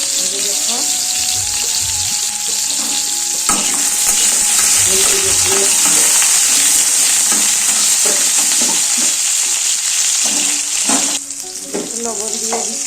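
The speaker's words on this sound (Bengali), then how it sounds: "কড়াইয়ে আলু দিয়ে দিলাম" Potatoes frying in oil in a wok, a loud, continuous sizzle with scraping and clinking stir strokes throughout and a faint voice mixed in.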